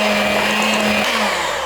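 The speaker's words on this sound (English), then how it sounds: "again with my electric mixer" An electric mixer whirs steadily and loudly at close range as it blends oatmeal raisin bar batter, its motor tone dropping slightly near the end.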